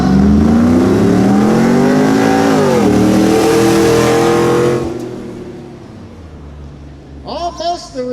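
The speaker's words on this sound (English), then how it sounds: "Let's see this time if that Chevrolet can keep the lead here, if that Ford's going to gain on them again once this turbo's kick in." Turbocharged Chevrolet and Ford drag cars race on a production drag strip, engines roaring loud and close with climbing pitch as they accelerate, then fading quickly into the distance.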